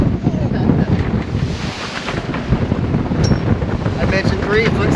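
Strong wind of about 20 to 25 knots buffets a sailboat at sea in 3 to 4 foot waves, a steady loud roar of wind and water with no break.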